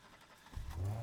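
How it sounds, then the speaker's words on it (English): A car engine in the video game Need for Speed Heat cranks and catches, a low rumble swelling quickly into a steady idle after a brief quiet start. "you can fire the car up"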